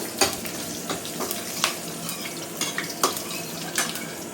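Chicken frying in a home kitchen pan, with a steady sizzle under repeated scrapes and clinks of a spoon stirring and mixing, several sharper strokes spaced through the stretch, no talking.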